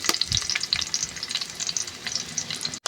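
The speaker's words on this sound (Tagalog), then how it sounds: "Gisa muna tayo ng bawang." Garlic and onion sauté in a hot pan with a continuous crackling sizzle, broken by quick spatters and the scrape of stirring, close and fairly quiet, with no voices.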